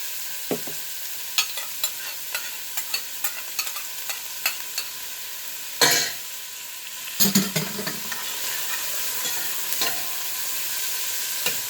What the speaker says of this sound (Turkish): soğanlarımı kavururken tuzumu da katıyorum